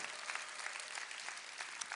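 Audience applause at a 2014 Orlando conference talk, a steady dense wash of many hands clapping that holds evenly throughout, moderately loud with no talk over it.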